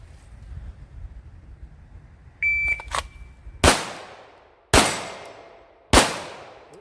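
Three loud, sharp handgun shots at a 40-yard steel target on an outdoor range, evenly spaced about a second apart, each with a brief ringing decay, preceded by a short electronic beep and quiet rustling.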